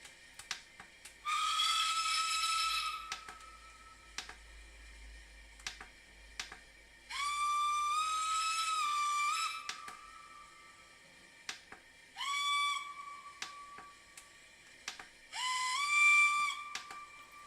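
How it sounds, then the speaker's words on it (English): A model locomotive's sound function plays a steam whistle, four separate blasts of varying length, each rising briefly then holding a steady shrill tone, separated by short quiet gaps with faint clicks. "on function 2, we've got a whistle,"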